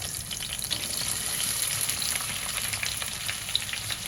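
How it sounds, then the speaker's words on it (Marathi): Three large lengthwise-sliced onions frying in hot oil in a pan with green chilies, a steady close sizzle with faint stirring, no talk. "आता आपण यावर कांदा घालूया. 3 मोठे कांदे मी असे उभे चिरून घेतले"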